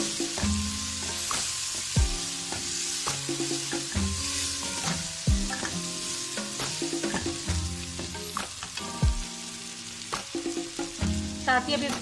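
Whole spices, dried coriander and turmeric fry in oil beneath a steady hiss, with repeated thuds, clinks and rhythmic stirring or tapping throughout the twelve seconds and no talking.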